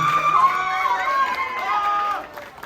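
An audience at a male pageant's question-and-answer portion cheers with overlapping voices shouting and whooping, loud at first and fading out near the end.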